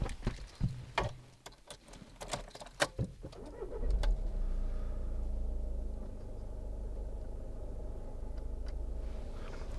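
Several sharp clicks and clunks inside a 2010 SEAT Leon 2.0 TD FR diesel, then its engine rumbles to life and keeps running in a steady low drone.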